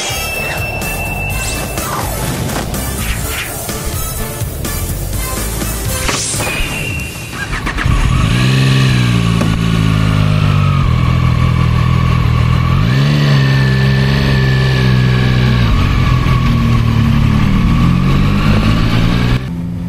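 Two three-cylinder sport motorcycles, a ZONTES 703RR and a CFmoto 675SR, rumble to life, one engine catching partway through and settling into a loud, steady idle with brief revs.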